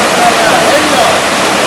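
The Shakshara waterfall in Uzbekistan sends up a loud, steady, full-bodied roar of rushing water with no letup, heard from close by.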